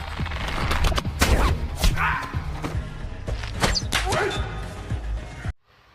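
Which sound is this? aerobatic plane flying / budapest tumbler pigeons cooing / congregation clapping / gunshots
gunshots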